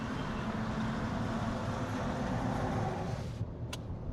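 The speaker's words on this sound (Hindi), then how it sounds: "भाई बाहर की नॉइस काफी हद तक कम हो गई है और इंजन नॉइस भी बहुत ही मिनिमम आपके केबिन के अंदर आती है।" A steady low rumble of road and engine noise fills the closed cabin of a Tata Punch Turbo with windows up, constant throughout, then a brief faint click near the end.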